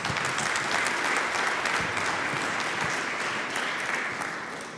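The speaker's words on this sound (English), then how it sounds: "A big round of applause for her," Steady audience applause rises in a conference hall as a speaker is invited on stage, dense and continuous, slowly tapering toward the end.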